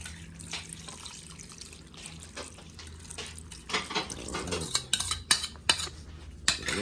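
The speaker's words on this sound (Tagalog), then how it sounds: "Haluin na muna natin." Onions and special sauce being stirred in a pan, with metal utensil scrapes and clinks against the cookware over a low background hiss, growing busier and louder toward the end; no one speaks.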